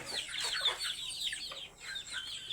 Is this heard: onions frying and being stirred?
no